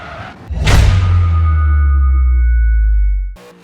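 Car tires skidding sideways in Forza Horizon 3, driven hard through a lateral slide: a loud, sustained rushing screech with a steady engine drone under it, holding for about three seconds before cutting off abruptly.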